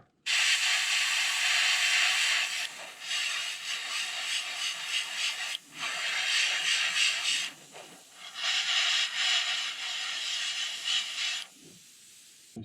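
Airbrush hissing paint onto a crankbait in a Rapala Phantom Green Craw pattern, laid on in three long steady sprays of several seconds each with short pauses between, close and fairly loud.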